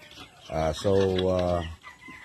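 A single drawn-out chicken call up close, a throaty cluck rising into a sustained note, with faint yard noise around it.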